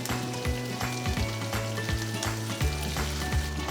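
Garlic, ginger and fresh green chilies frying in a pan, a steady close sizzle with crackling bursts and occasional stirring, continuous throughout and without speech.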